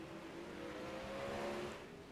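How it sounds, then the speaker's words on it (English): Sprint car engines at Williams Grove Speedway, 360 sprint cars heard from a distance as a faint, steady engine drone that swells briefly and eases off through the turns. "in the motors of these sprint cars."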